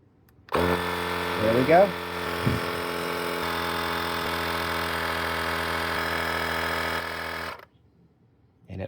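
A GOOLOO GT160 portable air compressor runs steadily for about seven seconds while inflating a tire, a loud, constant buzzing motor drone that starts abruptly and cuts off, with a brief spoken remark near the start.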